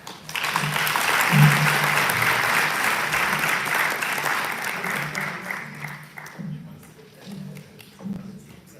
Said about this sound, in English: One round of applause for her, please.